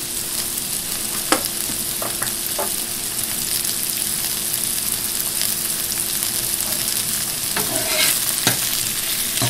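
Vegetables and mushrooms sizzle steadily in a hot oiled pan as they are stirred, a continuous close frying hiss broken by a few sharp utensil clicks and scrapes, with no talking.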